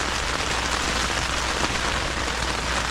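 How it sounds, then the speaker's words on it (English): Steady rain drums on the fabric of a small Coleman two-person tent on the Dry Tortugas, a dense, even patter close overhead that holds unbroken throughout with no voices. "you can probably hear the rain hitting my tent, my little Coleman two-person tent"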